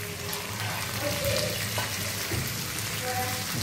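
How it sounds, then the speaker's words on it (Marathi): Surmai kingfish pieces fry in a pan with oil, giving a steady, dense sizzle and crackle that holds evenly throughout at close range, with no talking. "फ्राय चालू आहे"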